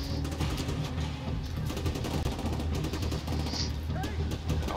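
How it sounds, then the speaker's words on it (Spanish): Video game gunfire in The Division 2, dense bursts of automatic shots and rapid fusillades rattling continuously, with someone talking over the action. "Por lo pronto hay mucho balazo."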